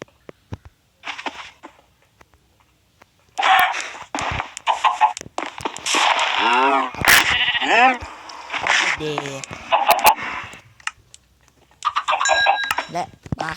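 Sheep bleating in Minecraft survival play, several loud wavering bleats in a row, with a person talking over and between them.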